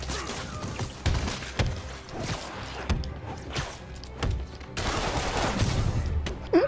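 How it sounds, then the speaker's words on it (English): Enemy gunfire in the Spider-Man PS4 video game: a rapid scatter of sharp shots and thuds amid fight noises, loud and close, in irregular bursts. "He just shot his own gun."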